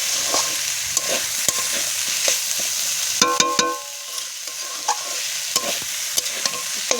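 Spices stirred in plenty of hot oil for a banana-flower ghonto, a sizzling bed broken by sharp spoon clacks and scrapes against the pan, with a louder clatter midway, close and unaccompanied by speech.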